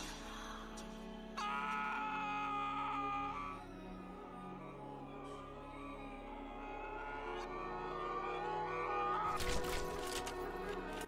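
A villain screams in a cutscene from the video game F.E.A.R., with a drawn-out, wavering cry over dark ambient sound and a harsh burst near the end.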